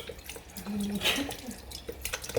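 Vinegar is poured into a pot of stewing pork knuckle, giving a brief, close liquid trickle and splash that rises and fades within a second or two against a faint background.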